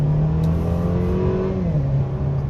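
A 2016 Mercedes C300 four-cylinder engine accelerates with a steady droning note that climbs then eases back, heard close and continuous throughout.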